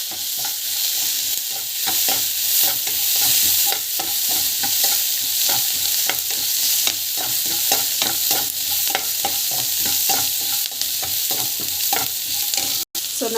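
Coriander being sautéed with asafoetida and salt in a pan gives a steady, close sizzle with frequent stirring scrapes and clacks throughout, and no one speaks.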